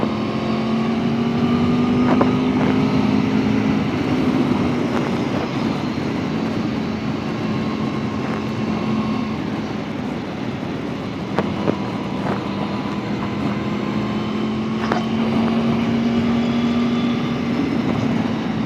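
Engine of a 2021 Aprilia Tuono V4 1100 Factory motorcycle under riding, a steady loud drone with rising and falling pitch as the throttle is worked, wind rush throughout and no talk.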